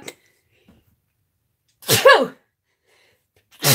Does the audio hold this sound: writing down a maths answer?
no